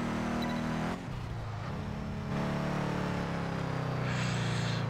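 A Nissan GTR in a virtual driving game accelerates with a steady engine tone that drops briefly at a gear change, then climbs again and holds loud to the end.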